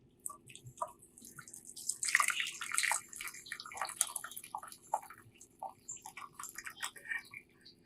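Hibiscus shampoo liquid strains into a vessel, making soft, faint trickling and dripping sounds in irregular bursts that swell briefly and then thin out into scattered drips.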